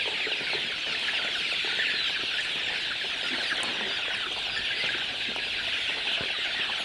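Chickens clucking at a poultry breeding and hatching farm, a dense, steady chorus of many birds at close range with scattered sharper calls and no voices over it.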